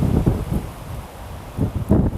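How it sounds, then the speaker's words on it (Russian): Strong wind buffets a microphone while cycling, giving loud low rumbling gusts that surge and fade, strongest at the start and near the end. "Ну вообще прям, я не знаю, сильнейший ветер."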